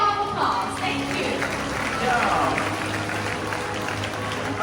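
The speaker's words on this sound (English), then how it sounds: "let us give Quincy and Amigo a big round of applause." Spectators at a parrot show at a bird park in Singapore give steady, moderately distant applause in a large open space, with some voices under the clapping.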